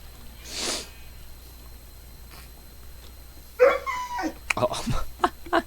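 A dog in a video game barking and whimpering: a soft sniff early on, then a burst of sharp yips and whines near the end, close and fairly loud, with game speech in the background.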